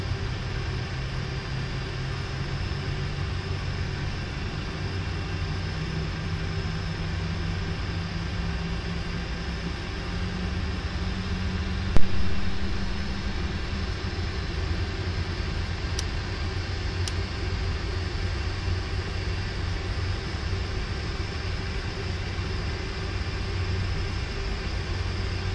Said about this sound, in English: You can hear the engines on the left side now spooling up.